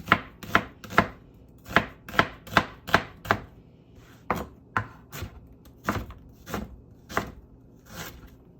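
A knife chops onion small on a board for a cast iron chicken dish, giving crisp, close, irregular knocks in quick bursts of several strokes with short pauses between them.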